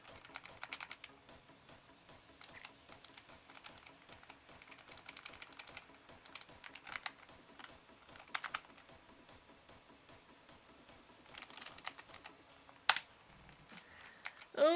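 Typing on a computer keyboard while writing Go code, quiet close-up key clicks in irregular bursts and pauses, with no one talking.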